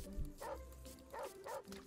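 In Shade: The Border Collie Flycatcher, a PC video game, a dog gives a few soft, quick bow-wow barks, faint and evenly spaced, with brief low murmuring under them.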